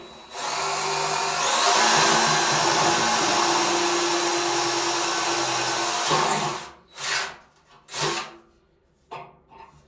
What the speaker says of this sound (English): So let's do a little drilling hole here.